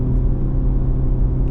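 Audi RS4 Avant V8 engine and exhaust give a steady, loud, deep rumble that holds evenly throughout without clear revs or pauses.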